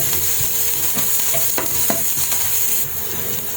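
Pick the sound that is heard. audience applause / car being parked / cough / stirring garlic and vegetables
stirring garlic and vegetables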